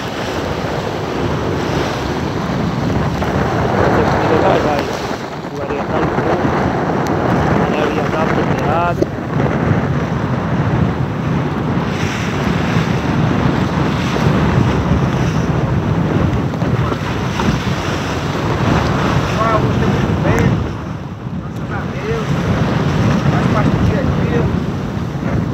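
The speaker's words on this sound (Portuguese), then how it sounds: "Tá muito brabo o mar." Rough sea around a small fishing raft boat (jangada) off the coast, with constant loud wind buffeting the microphone and waves surging and splashing continuously throughout.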